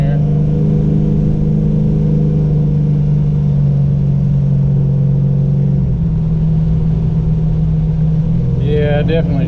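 Car engine with a Holley 850 Brawler carburetor idling and holding partial throttle running rich, a loud steady rumbling drone with a slight pitch shift midway, heard up close inside a noisy space.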